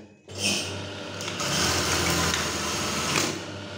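A Brother 814 industrial sewing machine, made in Japan and with its timing stop out of adjustment, runs steadily for several seconds, loud and close, with a hard, fast mechanical whir and no voices over it.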